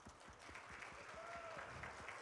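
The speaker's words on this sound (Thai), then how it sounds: "ขอเสียงปรบมือให้กับท่านดร. สถาพรมงคลศรีสวัสดิ์ครับ" Hall audience at a beauty pageant final show applauds in a soft, steady wash of clapping, faint and distant, with a thin tone sounding briefly over it.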